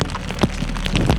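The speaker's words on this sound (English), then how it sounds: "And it's starting to intensify the rain." Rain intensifying near Lake Baikal outside Irkutsk, on muddy ground: scattered close drops ticking and pattering on a surface over a low background rumble.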